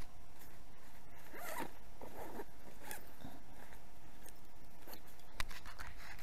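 A zipper on a backpack pocket is drawn closed in a few quick rasping pulls, close up and fairly quiet, with some soft handling noise around it.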